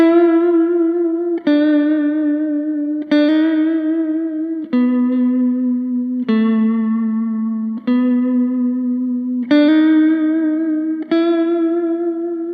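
An electric guitar plays a slow lick of eight sustained, distorted notes, each held with wavering vibrato, loud and clear with no talking.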